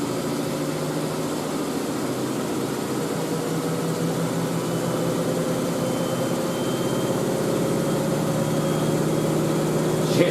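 A Miele W562 Prestige Plus 6 washing machine runs a spin cycle up to 1000 RPM, a steady close drone with layered motor hum and whine that holds level and swells slightly toward the end.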